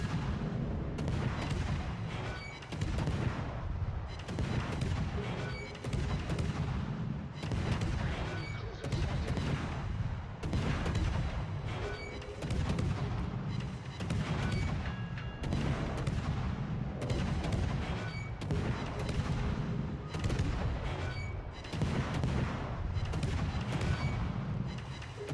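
Heavy battleship guns fire repeatedly in a naval combat video game, a rhythmic series of loud booming salvos every second or so, continuing steadily throughout.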